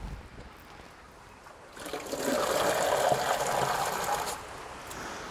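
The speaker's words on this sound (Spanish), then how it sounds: "Y vamos a llenarlo de agua." Tap water running into a container to be mixed with a little chlorine for disinfecting an orchid, a steady broadband rush that starts abruptly after a quiet moment, holds for a few seconds, then cuts off.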